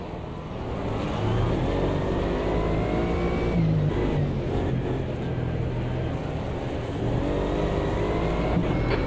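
A steady engine roar runs throughout, with pitch rising and falling as an Alpine race car in Automobilista 2 accelerates and shifts, loud and continuous with no voices.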